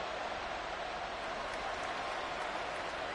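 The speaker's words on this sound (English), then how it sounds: "A big play here as the crowd noise rises" Stadium crowd noise at a football game during a big play, a continuous distant roar of many voices and clapping, steady and moderately faint throughout with no distinct talk.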